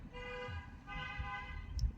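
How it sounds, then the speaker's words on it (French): A car horn sounds in two sustained blasts with a short gap between, over low rumbling outdoor background noise. "Tais-toi le klaxon."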